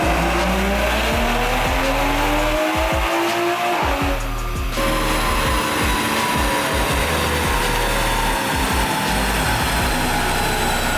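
A Toyota Supra with a catless downpipe and unlocked ECU roars on a dyno, its engine note rising steadily through a pull, loud and close, then holding a sustained high drone.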